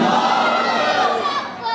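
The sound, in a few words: crowd shouting slogan in response at religious gathering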